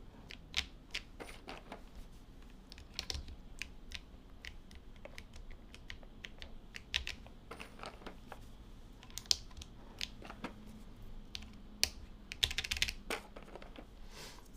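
Typing on a QK80 TKL mechanical keyboard with a coffee-themed build, a quick run of light clacky keystrokes with occasional louder taps, close but soft and uneven, no voices.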